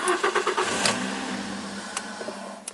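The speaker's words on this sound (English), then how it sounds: "now I start this engine" A cold Toyota Corolla with a VVT-i engine cranks and catches, its motor running with a steady mid-pitched drone close by, with a few sharp clicks over the idle and no talking.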